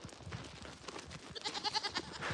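Goats bleating several times in close succession while being led on a walk down a road, fairly near and moderately loud, with soft movement noise underneath.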